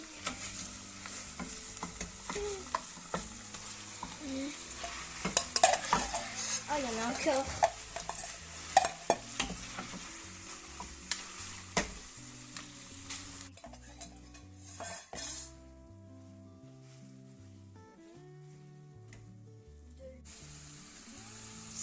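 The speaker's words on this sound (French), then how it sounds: "Je vais mettre le porc dans la casserole." Pork sizzles and stirs in a pan for red curry, with scraping utensils and clinking cookware, a brief voice speaking over it before the frying quiets down.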